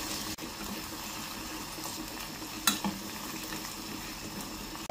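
Meat frying with browned garlic in a pan gives a steady, close sizzle throughout, with a brief utensil clink partway through and no talk.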